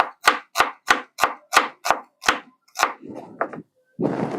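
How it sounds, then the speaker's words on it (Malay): A knife slices shallots on a cutting board, nine sharp evenly spaced chops close and loud, followed by a few softer scraping sounds and a brief rustle. "Kita hiris bawang merah."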